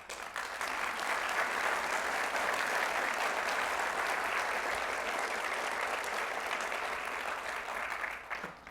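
Steady, dense applause from a large audience at the 2022 State of San Diego County Address, sustained at even strength for about eight seconds before tapering slightly at the end.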